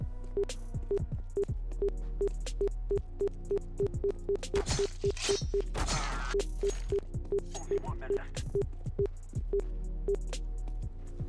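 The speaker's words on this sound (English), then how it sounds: "it will make a sound if the player is close to an enemy" Short electronic beeps from a cheat signalling a nearby enemy repeat at a steady, brisk pace over a constant low hum, with a burst of noisy game sounds in the middle.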